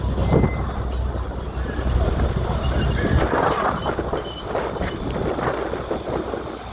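Wind buffets a microphone at a tractor pull in Illinois with loud, rough rumbling gusts and roaring noise, continuous throughout.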